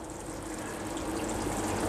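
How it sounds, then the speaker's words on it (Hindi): Hot water poured into a pot of chicken degi korma to thin the gravy, a soft, steady trickling pour heard close up and fairly faint throughout. "आप हमेशा गर्म पानी डालिएगा।"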